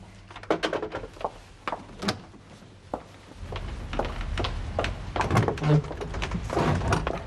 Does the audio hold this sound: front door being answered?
yes